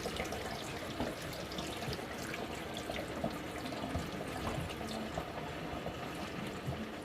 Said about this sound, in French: je jette tout l'eau